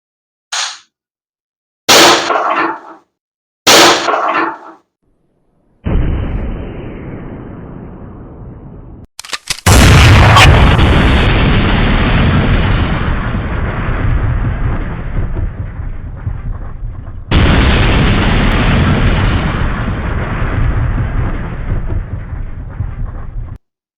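Umarex air pistols and a .22 air rifle firing at a mobile phone: a handful of sharp, loud cracks separated by pauses, some followed by longer sustained noise, heard close with no talk.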